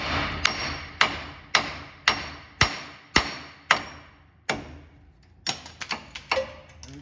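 Hammer striking the steering knuckle of a Silverado truck to free the tie rod, about eight steady metallic blows in even rhythm, then a quicker cluster of lighter hits, close and loud with no talking.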